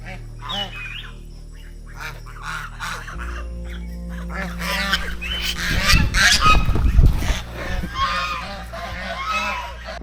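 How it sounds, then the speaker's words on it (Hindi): Ducks living at a resort near a tiger reserve honk loudly in repeated goose-like calls, building to a noisy burst midway, with a person talking over them. "ये डक्स इसी रिजॉर्ट में रहते हैं"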